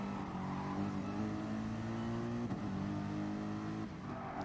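A small Renault race car engine at Suzuka in a racing video game, a steady loud buzzing engine drone that dips under braking around the midpoint and then climbs again, alone without talk.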